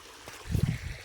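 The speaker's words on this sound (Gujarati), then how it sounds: "જો મિત્રો અહીંયા પાણી કેટલું આવે છે." Cold rainwater from a heavy morning shower runs along a muddy road, a brief close rush and gurgle of flowing water that swells and fades within a second.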